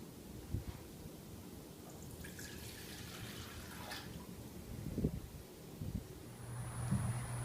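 Distilled water, three-quarters of a cup, poured into a medium-sized bowl during lye soap making, giving a faint, brief trickling splash under a quiet room hiss.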